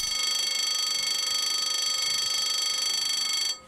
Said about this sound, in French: Là, on entend la sonnerie, passage à niveau.